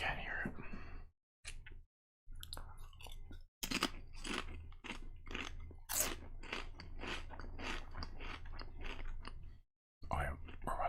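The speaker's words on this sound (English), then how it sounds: "The dog has decided to start chewing her bone right behind my chair." A dog gnaws a bone just behind a chair indoors, producing close, irregular crunching and scraping bites in bursts with short pauses, picked up by a sensitive microphone.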